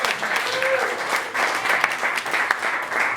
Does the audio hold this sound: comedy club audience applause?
yes